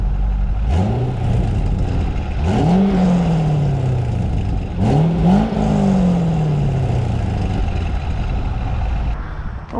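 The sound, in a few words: 1998 C5 Corvette Indy 500 pace car driving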